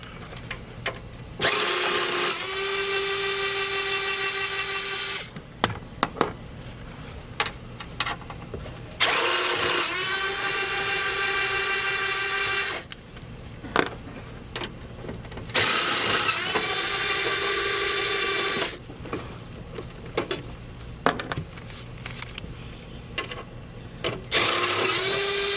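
An impact or power driver removing four 10mm bolts from the tray of a Duramax truck during an L5P cold air intake install: several loud whirring bursts a few seconds long, each followed by quiet, close by with no talk.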